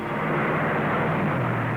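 A steady Ford Thunderbird car engine roar rumbles continuously, a broad muffled drone heard alone without variation.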